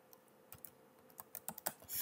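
A file name being typed on a computer keyboard gives a run of sharp, irregular key clicks that grow quicker toward the end, close and alone with no talking.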